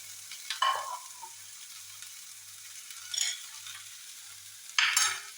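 Ginger and vegetables being sautéed in a pan for an egg oats dosa: three separate bursts of stirring and sizzling scrape against a quiet background with a faint low hum.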